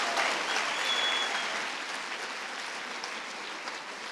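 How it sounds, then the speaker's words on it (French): Audience applause at the grand final evening of a French pleading competition, honoring four semi-finalists; dense, steady clapping fills the hall, fading gradually toward the end with no voices. "applaudissons encore chaleureusement les 4 demi-finalistes qui se sont affrontés"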